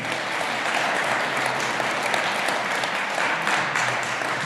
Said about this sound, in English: So give yourself a round of applause for being here tonight.